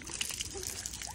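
Water tossed from a spout at a spring-fed bathing spot, a short splashy trickle and slosh close by, with broadband spray noise throughout.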